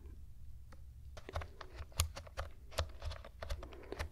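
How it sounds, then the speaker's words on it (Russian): Clicky keystrokes on a wired computer keyboard, typed in quick irregular bursts close up and fairly quiet, with no talking. "Клавиатура проводная."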